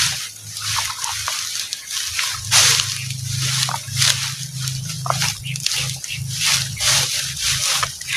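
Water sloshing and dripping in an abandoned village, a steady wet churning with splashy bursts throughout, close and fairly loud, with no speech over it.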